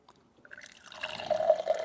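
Fresh water gravity-fed from a tank trickles out of a tap, starting with a few soft drips and building into a steady close running flow, with no voices.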